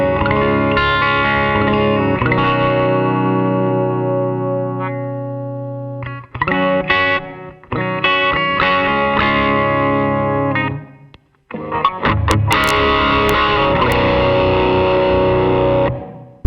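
Electric guitar played through a Pod amp modeler set to its Matchless Chieftain amp setting, loud sustained chords and ringing notes with effects, a few brief gaps and a burst of picked strums near the end.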